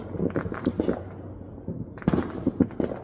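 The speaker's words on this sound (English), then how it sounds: "So the fireworks outside at night, 4th of July, 2024." Fourth of July fireworks crackle and pop outside at night, clusters of sharp bursts in two volleys with a short lull between, heard from a distance.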